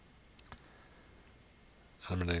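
A single faint computer mouse click while working in inventory management software, close and brief, followed by a short stretch of quiet before a voice starts.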